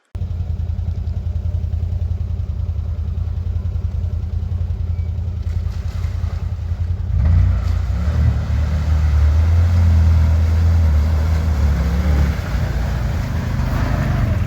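A four-wheel drive bike runs off-road, its engine a loud, steady low drone close by that swells and grows heavier about halfway through, with rattling clatter over the top.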